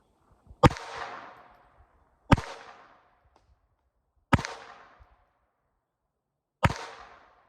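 A Jennings J-22 pistol fires CCI standard .22 rounds, four sharp, close cracks spaced irregularly over several seconds, each trailing off in a short ringing decay, with faint handling clicks between shots.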